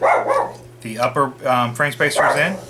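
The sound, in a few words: dog barking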